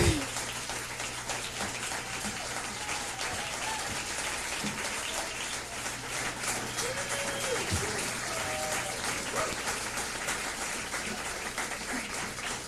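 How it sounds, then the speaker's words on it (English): A concert audience at the National Arts Centre in Ottawa applauds at length, a dense, steady wash of clapping that sounds like heavy rain, with a faint squeak or two over it. "I think I'll just go back and make you clap longer"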